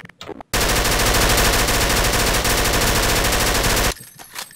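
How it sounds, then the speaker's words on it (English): Automatic gunfire from a Prop Hunt video game: one long, loud, unbroken burst of rapid shots lasting about three and a half seconds, with no talking over it. "I'm just gonna walk around and shoot everyone in the fucking head."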